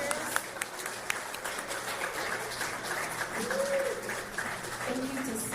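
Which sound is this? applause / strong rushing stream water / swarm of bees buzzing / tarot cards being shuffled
applause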